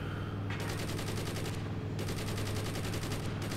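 Machine gun fire in the video game Carrier Command Gaea Mission, sustained rapid bursts with brief pauses between them, loud and rhythmic over a low, droning engine rumble.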